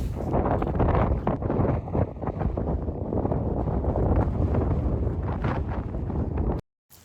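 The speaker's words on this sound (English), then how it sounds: "It's really windy out here today." Strong gusting wind buffets the microphone on an exposed mountain trail near a high summit, a loud continuous roar with rustling that ends abruptly.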